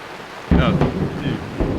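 Thunder rolls from a lightning storm at sea around a moored boat, a loud crack and rumble breaking in suddenly after quiet, then a second lighter swell near the end, with rain in the background.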